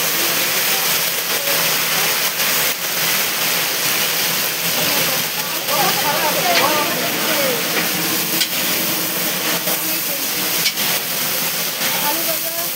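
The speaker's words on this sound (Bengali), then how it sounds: "এখন আলুটাকে ভালো মতন ভাজতে নেবে।" Potatoes frying in hot oil give a steady broadband hiss and sizzle throughout, with faint voices and household noise in the background during a home celebration.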